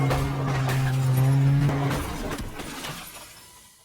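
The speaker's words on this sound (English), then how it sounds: "He ends up hitting Sabrina with his car, causing injuries to himself as well." A car hitting a person in a horror film: a loud engine surge and tyre noise with a harsh crashing impact, then the sound fades out toward silence.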